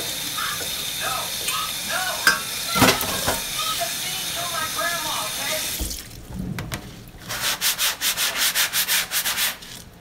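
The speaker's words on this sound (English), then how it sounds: "I'm gonna wash my cutting board and knife." A cutting board and knife are washed at a sink under running tap water, with rubbing and scrubbing, then bursts of rhythmic rinsing and splashing near the end, close and fairly loud.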